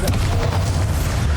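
A Bombarda spell blast in the Hogwarts Legacy video game, heard as a dense, continuous low booming rumble with a brief sharper crack near the start, loud and steady.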